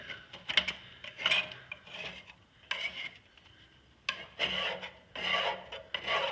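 A hand scraper from GIE scrapes caked, concrete-hard buildup during spring maintenance on a Ferris IS-3200Z mower, in short irregular rasping bursts with pauses between, close and quiet.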